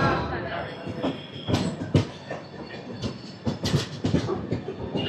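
Janmabhoomi Superfast Express 12805, Visakhapatnam to Lingampalli, pulling out of Eluru railway station after a short halt: a loud, close rumble of rolling wagons with rhythmic wheel clacks and metallic squeals, with faint voices nearby.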